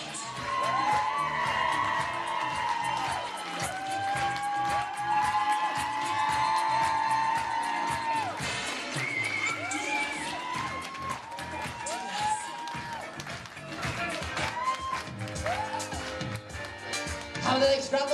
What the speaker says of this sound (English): let's clap those hands